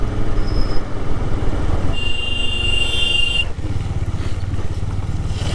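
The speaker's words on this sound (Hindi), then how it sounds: "आगे ये भाई बड़े अजीब तरीके से बाइक चला रहा है" A motorcycle runs along a winding mountain road between Mansoona and Pithoragarh, its engine droning steadily close by, with a brief high whine partway through and no talk.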